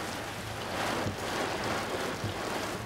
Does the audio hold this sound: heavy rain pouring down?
yes